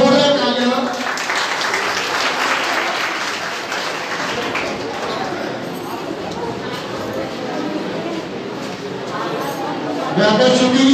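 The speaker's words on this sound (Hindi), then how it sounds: "जोरदार तालियां।" An audience at a welcoming event in India applauds, the clapping spreading under an announcer's voice over a PA, with the announcer talking through much of it.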